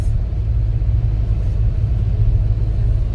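Steady low road rumble and engine drone from inside a car cruising on an expressway during a winter storm, continuous and even with no talking.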